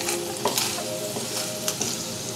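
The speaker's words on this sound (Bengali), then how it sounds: "মুরগিতে ব্ল্যাক পেপার দেওয়াতে খুব সুন্দর একটা অ্যারোমা পাওয়া যাচ্ছে। তো মুরগিটা ভাজা হয়ে গিয়েছে" Chicken seasoned with black pepper frying in a pan, a continuous close sizzle with several light scrapes and clicks of stirring, and no voices.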